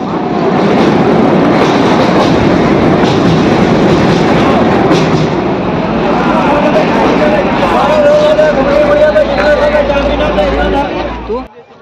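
A train rolls along a railway line near the Kangsabati river, giving a loud, steady rumble with clickety-clack across the whole stretch, heard close by and mixed with a murmur of voices.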